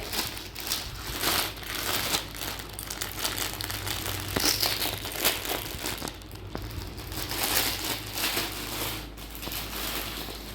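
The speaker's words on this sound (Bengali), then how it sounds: "তো তোমাদের সামনে খুলছি শাড়িটা, দেখা যাক খোলার পরে।" Crinkly plastic packaging around a saree ordered online from Flipkart is pulled and unwrapped up close, with steady crumpling and rustling throughout and no talking.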